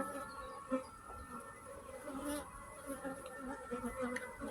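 Honey bees buzz around an open hive, a dense continuous drone of many insects close by that holds steady throughout, with no talk.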